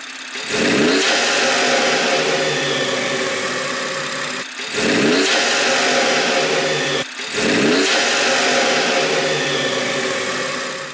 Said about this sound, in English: we're going to give the car a start up and some heavy revs